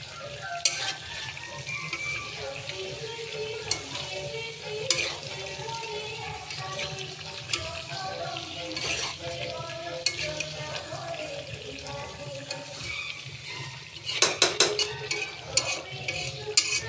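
Chicken being stirred with spices in a frying pan, a steady sizzle with scraping and clinking of a utensil against the pan throughout, close and continuous, louder bursts of stirring near the end.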